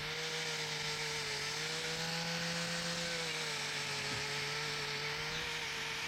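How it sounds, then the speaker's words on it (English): A grinder trims thick horn off a cow's hoof at a traditional family farm, a steady close high-pitched whine that runs without a break throughout and dips slightly in pitch now and then. "Getting the thick off with a grinder."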